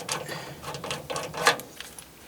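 A rivnut installer tool's knob is unscrewed by hand, giving soft ratcheting clicks and metallic scrapes in an uneven rhythm, close and fairly quiet, with no voices.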